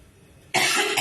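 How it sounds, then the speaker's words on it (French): A single harsh cough bursts out close to the microphone after a moment of near silence, loud and breathy. "Moi, je vais bien, mais je tousse."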